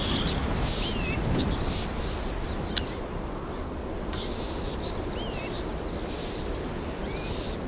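A scattering of brief, odd, squeaky crow calls from Castlevania Lords of Shadow repeats faintly at irregular intervals over a constant hiss of in-game ambience.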